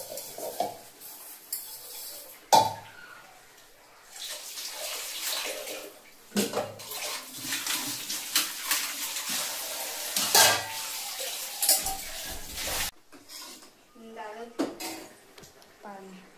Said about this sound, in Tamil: நம்ம சாமான் கழுவி ஊற்றணும்.